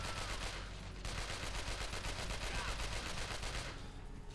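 Rapid automatic gunfire in the video game Chernobyl Commando, a dense, sustained burst of shots repeating steadily and loudly from start to finish.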